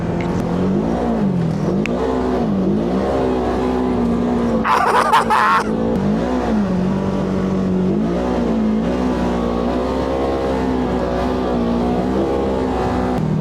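A Polaris RZR Pro R off-road vehicle drives fast on a closed course, its engine droning loudly and rising and falling in pitch with throttle changes, with a brief burst of gravel or spray near the middle.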